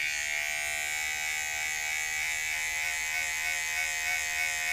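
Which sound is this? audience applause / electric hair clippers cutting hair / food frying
electric hair clippers cutting hair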